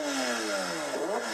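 A tuned sports car engine revs alone, its tone sliding down steadily and then swinging back up in a quick blip, loud and close throughout.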